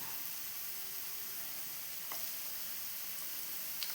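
Potato slices fry in a pan for an egg omelette, giving a steady, close sizzle with soft crackles and a couple of brief louder pops. No one speaks.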